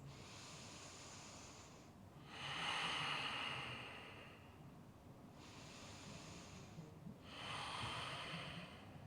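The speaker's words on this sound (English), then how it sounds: "2 more breaths." Deep, slow breaths during a yoga practice, two long exhales rushing out close and soft, separated by quiet pauses.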